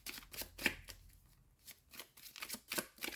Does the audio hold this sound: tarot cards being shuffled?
yes